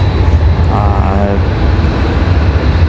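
A Republic Airways jet departing Raleigh-Durham airport gives off a loud, steady engine roar that fills the scene, with a person talking briefly over it.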